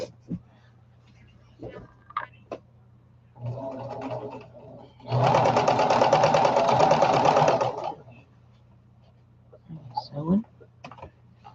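A domestic sewing machine runs in a steady whirring burst of stitching for about three seconds, with brief talk and handling noises around it during a crafting session.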